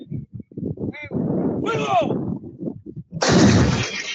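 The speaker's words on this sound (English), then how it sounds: "Oh, wow. Artillery." Artillery fires during military war drills in a rapid string of heavy booms and bursts, loud and close, mixed with other clattering noise.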